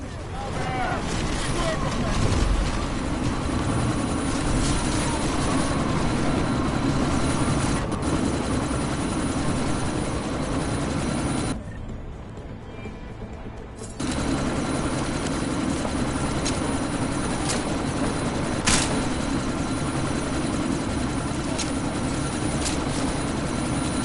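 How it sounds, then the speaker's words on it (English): Helicopter flying in Deus Ex during a sandstorm, a steady loud rotor and engine drone that drops out briefly midway and then resumes. "you need to disable that chopper"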